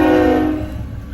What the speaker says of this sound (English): Oh, is that a train? Yes, it is. CSX, I bet.